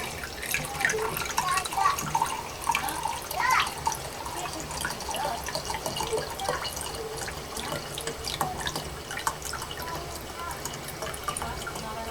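Turpentine pours steadily into a container for a homemade canvas waterproofing compound, a continuous close trickle and splash of liquid lasting throughout.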